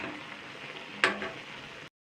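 Ground spices sautéing in a pan for a winter vegetable and duck egg curry give a steady close frying sizzle, with a brief brighter burst of crackle about halfway through.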